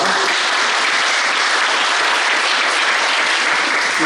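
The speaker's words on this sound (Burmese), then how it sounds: "အားလုံးလက်ခုပ်ပြန်တီးပေးရအောင်" An audience breaks into loud, sustained applause, a dense and even patter of many hands clapping throughout with no voices standing out.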